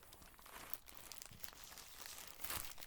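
Close, soft crinkling and tearing of plastic packaging being opened by hand indoors, a few irregular rustles and crackles with a louder burst near the end.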